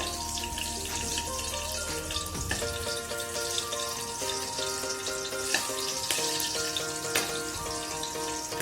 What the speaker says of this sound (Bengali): ভীষণ ছিটছে, লঙ্কাটা ভালো মতো সেঁকে গেছে।